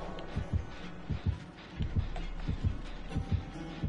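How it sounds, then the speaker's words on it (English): Heartbeat sensor in the video game Dead by Daylight, a steady series of deep, thumping double beats, throbbing low and fairly close with no talking over it. "A heartbeat sensor is going off."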